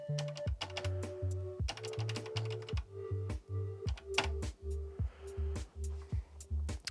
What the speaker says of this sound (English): Let's do the usual keyboard test.